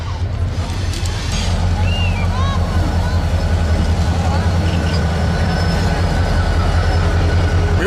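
A freight train rolls slowly through a Mexican goods yard, a loud continuous low rumble of wagons with faint metallic wheel squeals and clanks over it.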